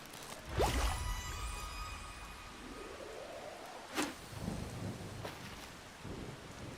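Steady rain hiss in Farming Simulator 25 on the Pichonniere Valley map, with a low rumble of thunder early on and a few soft thuds over the constant wash.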